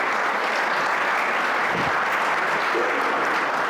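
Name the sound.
audience applause for a young man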